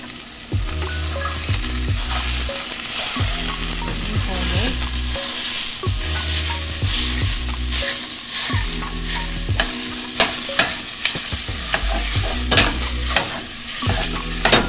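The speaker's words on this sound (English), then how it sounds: "We're gonna drop our pork sausage into there. So just like ground beef, we're going to break this up." Pork sausage is broken up and fried in a hot pan for sausage gravy, a steady loud sizzle under repeated scraping and prodding of the meat against the pan bottom, with no voices.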